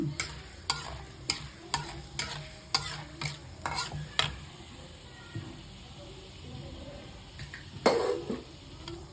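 Mustard seeds and cumin fry in hot oil, giving a steady sizzle punctuated by sharp, regular stirring scrapes and clinks, with a louder burst of sizzle near the end.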